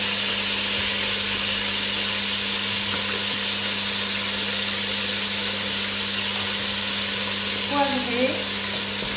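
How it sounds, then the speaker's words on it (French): Pork and vegetables sizzle as they roast in a pan for a sauté de porc aux légumes, a steady broadband frying hiss running throughout, with a brief spoken word near the end. "Et on fait bien rôtir."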